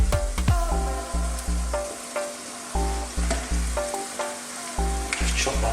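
Minced beef sizzles loudly in a hot pan for a Greek stuffed aubergine dish, with a steady frying hiss broken by repeated scrapes and stirring knocks from a utensil.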